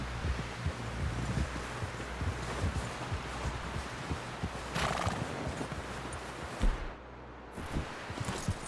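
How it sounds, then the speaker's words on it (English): A horse in the Red Dead Redemption video game clip-clops steadily and gives a whinny over faint rustling, wind-like background noise, with a brief dip near the end. "Someone help John down off this horse."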